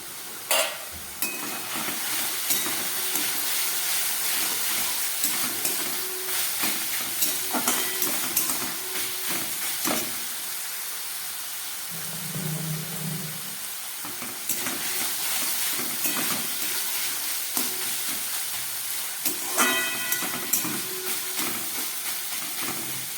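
Chicken pieces fry with spices in an oiled pan for potato chicken momo, giving a continuous close sizzle broken by frequent scraping stirs.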